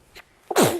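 A person gives a short, sharp sneeze, preceded by a faint breath intake, loud and close with no talking over it.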